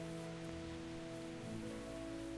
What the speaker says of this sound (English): I hear rain outside.